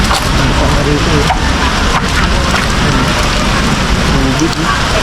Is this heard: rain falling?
yes